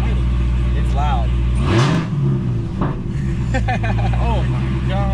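A Dodge Hellcat's engine runs loudly at a steady deep rumble, close by, beneath a person talking excitedly over it.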